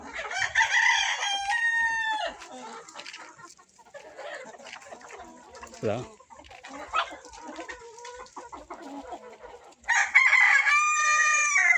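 Roosters on a poultry farm crow loudly at the start and end, with clucking and other hen sounds between them from a flock nearby.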